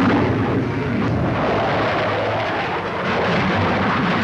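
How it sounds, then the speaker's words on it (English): Lockheed Starfighter jet fighter from a 1950s newsreel roars steadily overhead, a loud, broad continuous engine rush that stays constant throughout with no voices. "Described as the most advanced plane of its type, the Lockheed Starfighter goes through its paces."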